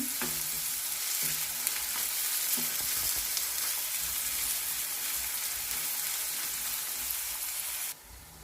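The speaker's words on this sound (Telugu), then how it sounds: "ఉల్లిపాయలు ఇలా వేగినాయి కదండి." Sliced onions frying in oil for a ridge gourd and prawn curry: a dense, steady sizzle close by with a few soft stirring knocks early on. It drops away abruptly near the end.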